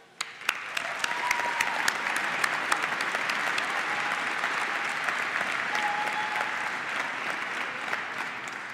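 An audience at a university convocation ceremony breaks into sustained applause after an initial swell, a dense wash of clapping filling the hall with a few sharper individual claps standing out.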